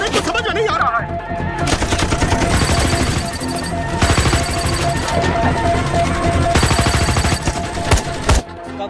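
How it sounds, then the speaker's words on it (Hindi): Rapid bursts of gunfire from people firing weapons in an action film, dense and loud throughout with music and other effects layered underneath and voices briefly mixed in. "हम तो फायरिंग कर रहे हैं सर."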